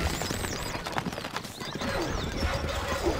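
Horse hooves clip-clopping in the strategy video game Stronghold Crusader, a quick, steady patter of hoofbeats over a busy game background with faint whistle-like tones, with no speech.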